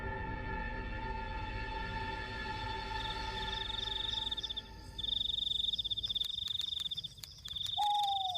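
A large frog calls inside Goa Wayang cave, a steady, overlapping chorus of tonal croaks with shrill insect-like trills rising over it, continuous and fairly close, with no talking.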